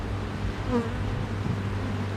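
Honey bees hum steadily inside an open hive during an inspection of the honey super, close and continuous, with no voices.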